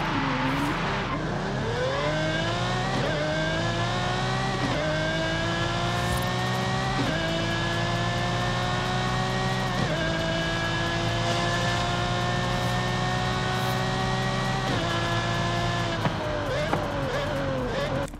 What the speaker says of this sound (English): I've got an audio clip coming up now of what the new engine sound for the Zonda sounds like.